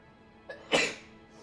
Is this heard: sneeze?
yes